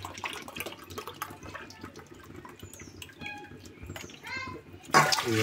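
Water is poured by the glassful into a pot for village-style rice rava upma, a splashing gush under a child's and adults' voices, with a louder pour near the end.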